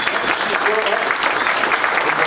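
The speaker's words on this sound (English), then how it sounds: "can we have a round of applause for our new inductees?" Close, lively applause from members at a monthly club meeting greeting new inductees, dense clapping throughout with voices talking and calling out over it.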